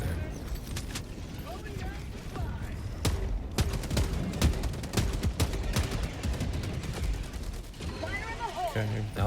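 Sustained automatic gunfire from the video game Helldivers 2 empties a magazine in a long, loud rattling burst of closely spaced shots, with a voice talking over it.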